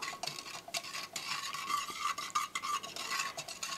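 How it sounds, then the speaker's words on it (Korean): A spoon stirring chocolate syrup of cocoa powder and sugar in a pot, soft repeated scraping and swishing strokes in a gentle steady rhythm, close and quiet with no talk. "이렇게 젓다 보면 섞여지니까 살살 저어주시고요."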